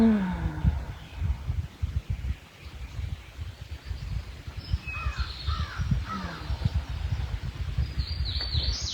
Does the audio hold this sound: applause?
no